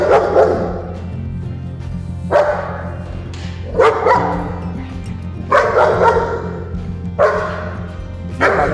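Reactive German Shepherd barking at another dog during a training session, five loud, deep barks in bursts spaced about every one to two seconds, close to the listener.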